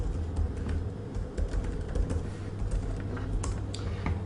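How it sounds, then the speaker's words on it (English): Rapid clicks from a computer keyboard as a web address is typed into a browser, an even stream of close, soft keystrokes over a steady low background hum. "So I'll just type that in."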